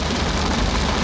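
Steady, dense rain falls on an outdoor farm in western North Carolina, a loud, even hiss with no voices.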